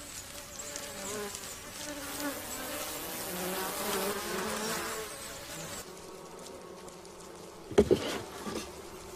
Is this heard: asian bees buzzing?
yes